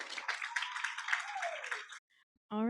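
Applause for a dedicated board member at a Rotaract Week event rises into dense, steady clapping from a crowd, cuts off abruptly, and a speaker's voice follows.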